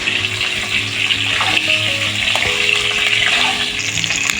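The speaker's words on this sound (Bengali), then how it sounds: "একবারে সমস্ত ফুলকপিটা দিয়ে দিলে সবটা তেল টেনে নেবে, তাই অল্প অল্প করে দিচ্ছি, অল্প অল্প করে ভেজে তুলে রাখছি" Cauliflower pieces fry in hot oil, added a little at a time, giving a steady loud sizzle and bubbling with a few soft clinks of a utensil against the pan and no talk.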